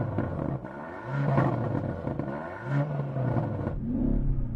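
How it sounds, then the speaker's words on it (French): A high-performance SUV engine revs during a stationary sound check before a drag race, a deep throaty roar swelling and falling in repeated pulses with rumbling exhaust, loud and close throughout. "On entend tout le moteur, mais j'entends en fait un petit bruit de pipe d'échappement venant de l'arrière."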